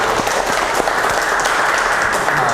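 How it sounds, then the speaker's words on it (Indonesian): Loud, dense applause from a school audience at a children's school-snack safety event, continuous clapping for a couple of seconds with no talking over it. "Tepuk tangan dulu."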